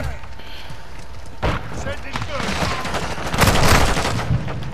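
Shotgun blasts in Call of Duty Modern Warfare II, game gunfire booming loudly in a few heavy bursts, densest near the end, with a player talking over the noisy battle.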